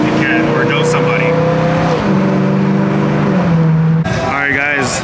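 A BMW engine revs loudly and close, its pitch rising and holding in steady stepped pulls before a sharp cut, with voices talking faintly over the roar.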